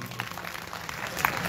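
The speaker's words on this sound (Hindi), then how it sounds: "जोरदार तालियों का स्वागत करेंगे।" Applause from an audience at a devotional Bhagavat Katha gathering, steady and moderately distant, with crowd murmur and a voice heard over it.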